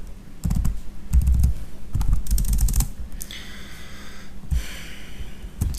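Code typed on a computer keyboard during a PHP programming lesson, heard as close, clattering bursts of keystrokes in quick clusters, followed by a softer stretch with scattered taps and no speech.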